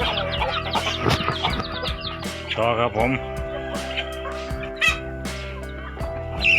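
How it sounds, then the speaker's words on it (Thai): Chickens fighting in a Thai farmyard, with scuffling, clucking and agitated squawks rising and falling among steady background noise, while someone talks over the commotion. "ไก่มันตีกัน"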